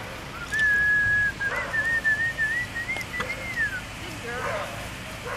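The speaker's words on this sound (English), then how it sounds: "We're slowly learning to come to a whistle." A person whistles to call puppies, a long sustained tone followed by a wavering, slightly bending whistle, clear and close over faint background noise.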